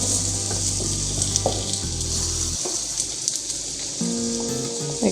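Aloo paratha frying in ghee on a hot pan, a loud, steady crackling sizzle close up with light spattering, accompanied by quiet background music tones.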